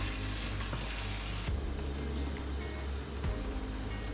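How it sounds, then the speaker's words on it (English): Vegetables and diced tomatoes simmering in a pan for a vegetable lasagna filling, giving a steady close sizzle and bubbling hiss throughout with a low hum underneath and no talking. "as these vegetables continue to cook"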